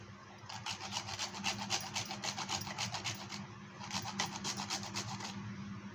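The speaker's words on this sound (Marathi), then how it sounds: "माझ्याकडं थोडंसं जायफळ आहे ते मी खिसून टाकते" A small piece of nutmeg is grated by hand over mango pulp for aamras, making a quiet, rhythmic rasping of quick back-and-forth strokes close to the microphone, with nobody speaking.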